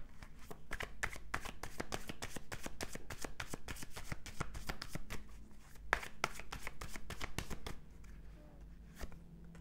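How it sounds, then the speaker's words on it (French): Tarot cards are shuffled in quick, continuous riffling flutters that pause briefly partway through before resuming, close but soft, with no speech. "je vais tirer quand même quelques cartes du tarot ici"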